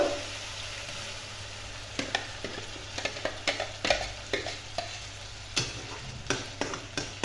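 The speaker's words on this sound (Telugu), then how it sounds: "ఇప్పుడు ముందుగా మిక్సీ పట్టి పెట్టుకున్న గ్రేవీ వేసుకుంటున్నాను." Ground cashew meal-maker gravy paste goes into hot ghee and is stirred. A steady sizzle runs beneath repeated, sharp, close scraping strokes of the spoon against the pan, with no talk.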